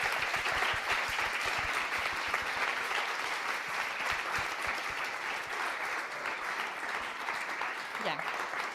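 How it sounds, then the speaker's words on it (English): Sustained, loud applause from a large conference audience at an urban-design event in Venice, steady dense clapping throughout with murmuring voices mixed in. "we all should give them a very big round of applause"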